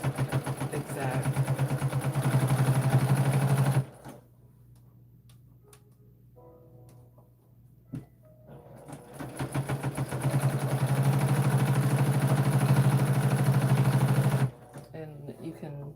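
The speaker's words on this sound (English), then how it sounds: "you can hear the weight on the machine because I'm sewing through, because it's folded over 4 layers of the batting and then the canvas from the bag" A sewing machine stitches through a folded canvas tote bag layered with four thicknesses of batting, running as a steady, loud mechanical rhythmic ticking in two long bursts separated by a quiet pause with faint movement.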